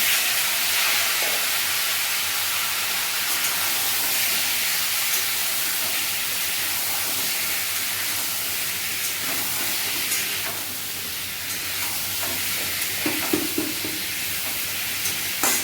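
Mango pieces for a jaggery-sweetened chutney hiss and sizzle steadily in a hot pan, a loud continuous frying noise with faint stirring scrapes and no talking.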